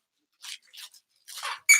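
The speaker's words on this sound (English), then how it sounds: "Sorry if you hear the squeaking noise in the background." A dog's squeaky toy squeaks in short, high-pitched bursts, a few quick squeals close by with brief gaps between them.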